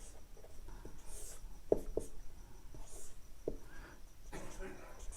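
A maths solution written by hand, with soft scratchy pen strokes and occasional taps under a quiet voice.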